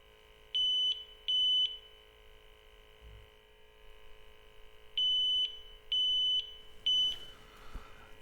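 A NAVAC refrigerant leak detector beeps while testing for an R-410A leak at 225 psi: two sharp, high, even beeps, a pause, then three more, over a steady electronic hum, close and clear with no talking.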